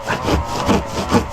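A hand saw cuts through wood in three steady rasping strokes, close and fairly loud, with a regular back-and-forth rhythm.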